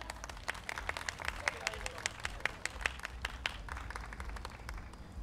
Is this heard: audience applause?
yes